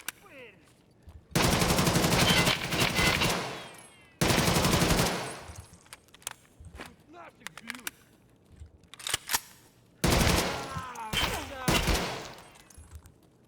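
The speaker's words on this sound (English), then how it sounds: "This gun sounds so fucking good." Sustained bursts of automatic gunfire from a video game shooter, three long loud volleys with sharp single shots and clicks scattered between them, close and dominant with no talk.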